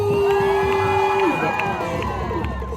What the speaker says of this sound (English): if you like what you see, make some noise